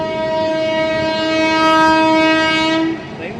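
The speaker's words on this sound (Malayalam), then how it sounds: "ട്രെയിൻ പോണോണ്ടോ" At a railway level crossing, a loud, sustained train horn blares for about three seconds, harmonically rich and close, then cuts off, leaving the rumble of the passing train.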